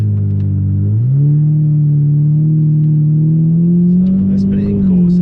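Aston Martin GT8 with a manual gearbox, its engine revving loudly and steadily close up, pitch rising sharply about a second in and holding high, with a rise near the end and faint voices underneath.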